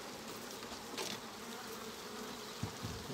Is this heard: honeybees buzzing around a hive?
yes